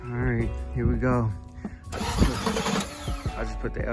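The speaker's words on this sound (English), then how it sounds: "She still start right up, but she's purring, she's quiet." A Chevrolet Impala SS with a new Elko battery cranks and fires into a rough, loud start, then settles into a quiet, purring idle, close by, with someone talking over the engine before and during the start.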